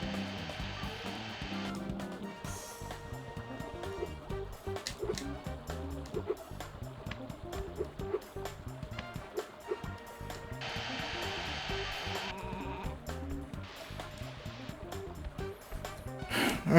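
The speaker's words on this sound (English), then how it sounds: "What if I try to use the air blower on that?" An air blower in the PlayStation game Looney Tunes: Sheep Raider, a steady whooshing hiss that runs through most of the stretch, with a busy game soundtrack playing underneath.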